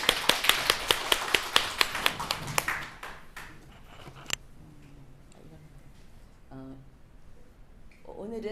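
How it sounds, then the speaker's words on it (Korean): A church congregation claps together in unison, about a dozen sharp, evenly spaced claps over the first three seconds, then quieter room noise with a few scattered sounds and a voice. "다 같이 박수하겠습니다"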